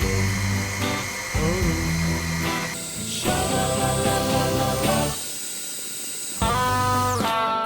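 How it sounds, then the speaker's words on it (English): A battery-powered handheld metal bandsaw cuts through a steel bolt with a shrill, whining buzz, starting and stopping in several bursts and briefly dropping in pitch under load, loud and close. "In this case, I'm using a battery-powered handheld metal bandsaw"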